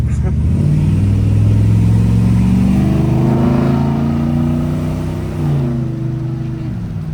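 A 8.1-liter big block engine with a new exhaust revs loudly and steadily up close, its raspy drone rising in pitch through the middle and then easing back, with some talk mixed in.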